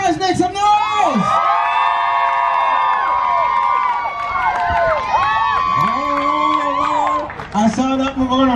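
A crowd at a Jamaican event cheers a dance performance with loud whoops, high shouts and yells, voices rising and falling close by throughout.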